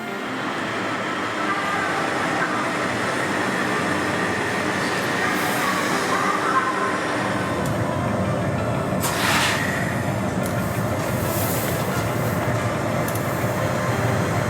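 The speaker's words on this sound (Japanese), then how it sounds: "さあ来ました モノレール来ましたよ" A Kitakyushu monorail train pulls into a station, a steady loud rolling rumble with brakes hissing and squealing near the end, heard close up.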